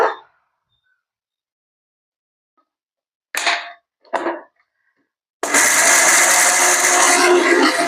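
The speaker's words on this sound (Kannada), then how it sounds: "ನಾನು ಎಲ್ಲ ಮಾವಿನಕಾಯಿ ಮಿಕ್ಸಿ ಜಾರ್ಗ ಹಾಕೊಂಡ್ ನಾನು ಇದನ್ನ ರುಬ್ಕೋಬೇಕೀಗ" Two short bursts of a mixer grinder motor, then the grinder runs loudly and steadily, churning raw mango to a paste in the jar until the end.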